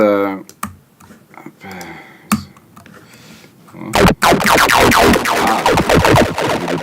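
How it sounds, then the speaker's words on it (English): Someone types on a computer keyboard while producing trance music, first with sparse clicks under a talking voice, then a loud, rapid burst of dense keystrokes toward the end. "I produce using musical typing"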